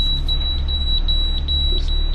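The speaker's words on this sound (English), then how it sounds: "every time we hit a waypoint, the waypoint alarm goes off" On a sailing passage from New Caledonia to the Loyalty Islands, a boat's navigation waypoint alarm beeps in a steady high-pitched repeating pattern over a constant low engine rumble, close and clear with no talking.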